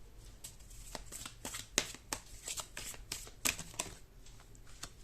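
Tarot cards are shuffled by hand in quick riffling bursts, a close crisp flutter of card edges repeating irregularly over several seconds.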